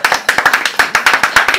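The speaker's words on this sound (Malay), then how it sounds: "Nak tepuk tangan boleh?" An audience claps hands in a quick, regular rhythm of about a dozen sharp, loud claps close by.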